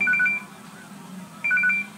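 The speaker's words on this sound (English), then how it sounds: "It's the phone. It's my phone, yeah." A mobile phone rings with two short bursts of a high, warbling electronic ringtone separated by a pause, fairly loud and close over a quiet low background.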